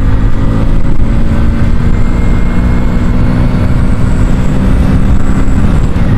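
A modified Splendor Plus motorcycle pulls hard through its gears, its engine a steady loud drone with rushing wind noise throughout, no break between shifts.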